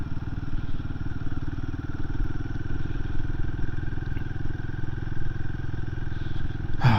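A Royal Enfield Himalayan 450 motorcycle rides along at steady speed, its low engine drone and road rumble continuous and close throughout, with a brief louder burst near the end.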